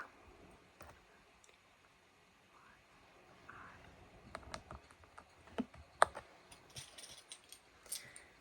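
Typing on a reassembled computer keyboard gives scattered, close, soft clacks and clicks, quiet at first and then growing busier in irregular bursts.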